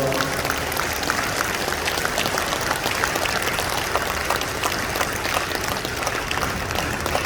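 A church congregation applauds at the opening worship service of a national men's fellowship convention, a dense, loud, continuous roar of clapping that fills the hall from start to finish.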